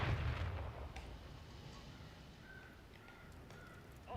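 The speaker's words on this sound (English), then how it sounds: "Hostile mortar strike in the area." Distant mortar strike explosions in Call of Duty Modern Warfare III, with a heavy low boom at the start and a rumbling battlefield wash beyond it, plus a few faint pops and one more thump near the end.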